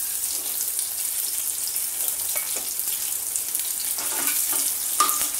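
Green and red chillies sizzling with cumin in a pan in a home Indian kitchen, a soft steady frying hiss with light crackles and small stirring clinks, fairly quiet and without talk.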